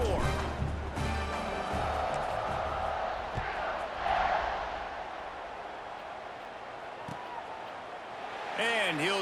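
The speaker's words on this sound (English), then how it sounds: "this crowd is buzzing after that last score" Stadium crowd noise from the video game College Football 26 buzzes steadily after a score, a broad roar running the whole stretch under continuous play-by-play commentary.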